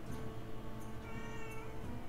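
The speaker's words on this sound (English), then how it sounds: "that's my cat meowing on the background." A cat meows in a few drawn-out calls against a steady indoor background hum, moderately loud, with no talk over it.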